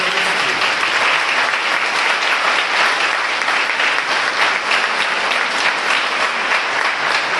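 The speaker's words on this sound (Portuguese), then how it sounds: "Queria que vocês dessem uma salva de palmas a ela." A church congregation gives a round of applause, a loud, dense and continuous roar of many hands clapping that holds steady throughout with no speech.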